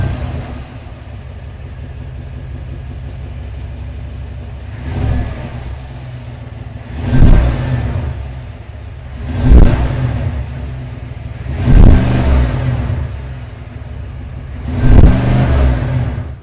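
The 6.2-liter V8 of a 2022 GMC Sierra AT4x idles with a deep, steady burble, then is revved five times in spaced, loud bursts that swell and fall back to idle.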